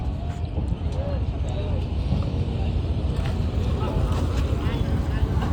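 A boat at Karanja jetty, a natural fishing harbour where boats leave for Rewas, gives a steady low engine rumble mixed with wind buffeting, continuous through the whole stretch.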